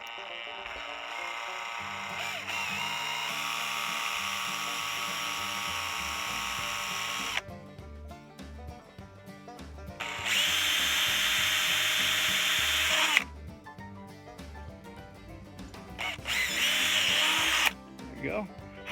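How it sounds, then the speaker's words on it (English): Power drill with a 9/32 bit boring through a plastic washer hose connector on a 1997–2001 Jeep XJ rear wiper system, running in several long whining bursts separated by brief pauses, close and loud. "I'm just going to drill it out all the way through."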